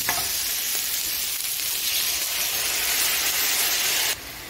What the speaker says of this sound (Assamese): অকমান মিঠাতেল লগতে পিঁয়াজ বিলাহী দিলো এয়া কেঁচা পকা মিক্স